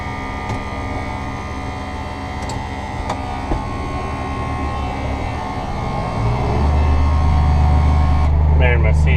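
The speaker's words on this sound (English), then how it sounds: "So this is the tractor." Small tractor engine running at a steady idle nearby, a low continuous hum that grows a little louder toward the end, with a voice talking over it.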